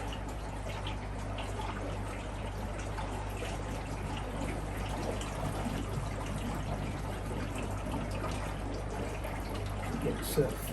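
Water runs and trickles steadily into an aquarium canister filter as it refills after being switched back on, a continuous close liquid wash over a low pump-like hum.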